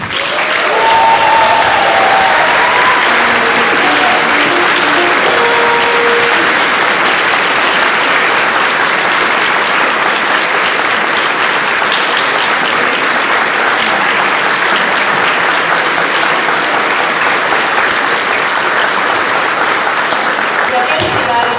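Sustained audience applause for conductor Kersti Perandi at a staged concert performance, a dense, steady wash of clapping filling the room for over twenty seconds, with some voices mixed in early on.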